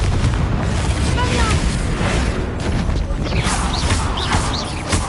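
Spell explosions in a PS4 video game blast out as dense, loud booming bursts with rumbling low end, sustained throughout, with game voices and effects layered underneath.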